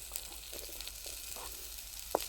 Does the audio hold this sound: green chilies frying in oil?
yes